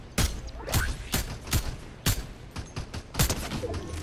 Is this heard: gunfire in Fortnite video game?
yes